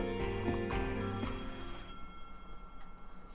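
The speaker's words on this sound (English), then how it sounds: "And then, the phone rang." A telephone bell rings loudly and nearby, one sustained metallic ring that fades away into quiet room tone, with no talking.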